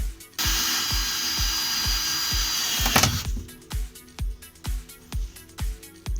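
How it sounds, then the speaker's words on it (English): A power drill bores holes in the body of a Ford Transit Custom van during a campervan conversion, starting with a loud sustained whine for about three seconds. A rapid series of sharp, evenly spaced knocking bursts follows close by. "I'm drilling holes in the van."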